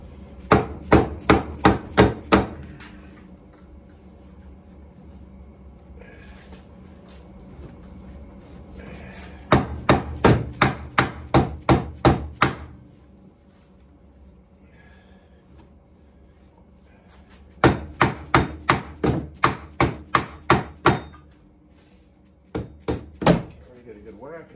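Hammer blows on a stuck secondary clutch of an Arctic Cat EXT 580 DL ATV in a workshop, struck in fast bursts of about eight to ten sharp metallic whacks each, with pauses between bursts and a quiet hum underneath.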